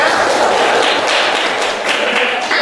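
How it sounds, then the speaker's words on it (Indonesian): Classroom students clapping for a group during a chemistry lesson on acids and bases, a loud, close, dense burst of hand claps sustained evenly throughout. "Boleh tepuk tangan dulu ya."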